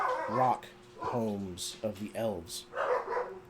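Several dogs bark and yip repeatedly in the background of a home recording, moderately near, interleaved with someone narrating a tabletop role-playing game.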